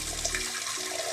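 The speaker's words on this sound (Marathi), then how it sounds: "हे अशी 2-3 पाण्याने आपण हे चांगली स्वच्छ डाळ धुवून घेऊ" Toor dal lentils being washed with water, a brief close splash and swirl of water that quiets within about a second.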